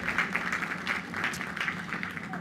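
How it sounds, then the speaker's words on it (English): At a Queens College commencement ceremony, the audience applauds the borough president with an even, continuous roar of clapping from a large crowd. "a big round of applause for the borough president, Donovan Richards"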